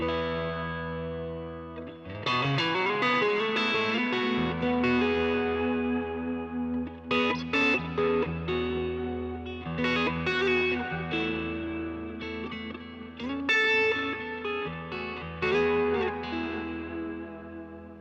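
Electric guitar in a clean tone with light grit, played through a large effects pedalboard, strummed chords and picked notes ringing with chorus-like shimmer and echo, played alone.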